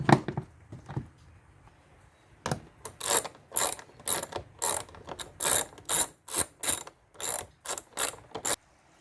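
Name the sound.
ratchet screwing in 10 mm screws on Toyota Camry air filter housing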